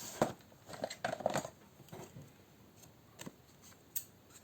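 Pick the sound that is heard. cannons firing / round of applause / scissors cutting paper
scissors cutting paper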